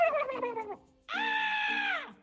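A turkey gobbling in two bursts of warbling, rapidly trilled calls, the first falling in pitch and the second held longer and steadier, loud and close.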